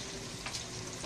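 Oil sizzling in a pan as a chili paste with pork is stir-fried, a brief, steady crackling hiss at low level.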